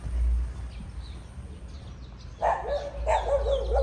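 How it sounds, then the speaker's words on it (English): Dogs bark a few times in the distance at a Thai temple, Wat Hua Hin, short sharp bursts over an outdoor background hum. "There's some dogs there."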